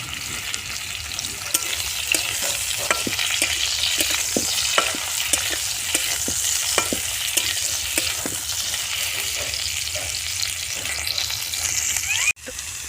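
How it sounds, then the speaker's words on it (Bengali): Young jackfruit pieces fry in mustard oil in a wok, giving a continuous loud sizzle with regular scraping strokes from stirring throughout, and no talk. "কড়াতে আমরা সরষের তেল দিয়ে আর প্রথমে এঁচোড়গুলোকে একটু ভালো করে ভাজা করে নিচ্ছি"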